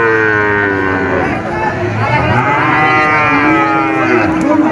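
A Friesian cow at a cattle market gives a loud, close, sustained moo that rises and falls in pitch, with faint background chatter.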